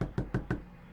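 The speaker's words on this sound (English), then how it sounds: "there was a frantic knock on our door" Four quick, evenly spaced knocks rap on a door, sharp and fairly close, followed by silence.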